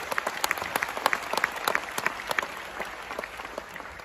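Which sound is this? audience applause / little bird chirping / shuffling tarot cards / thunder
audience applause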